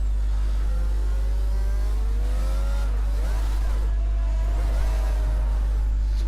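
Racing car engine in a video game at Bahrain, revving and shifting with rising and falling whine over a loud constant low hum, close and continuous.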